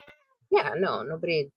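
A house cat meows close by, a couple of drawn-out, wavering meows lasting about a second, overlapping with a person talking.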